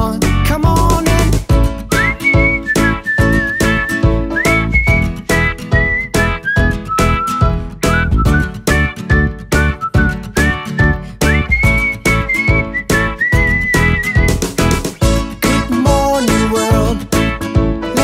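A song melody whistled over a full band backing, the bright whistled tune weaving through steady drums and instruments for the whole stretch.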